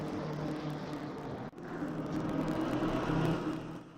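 Racing cars in a PS5 video game at Silverstone, a continuous engine drone and whir with a brief dip near the middle, heard alone.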